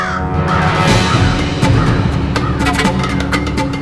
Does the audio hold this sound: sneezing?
no